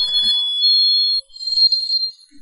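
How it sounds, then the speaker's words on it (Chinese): A phone rings in a Chinese police crime video game, a loud steady electronic tone that cuts off after about a second, followed by a second, wavering burst of ringing. "这不就是警察打过来的电话吗？"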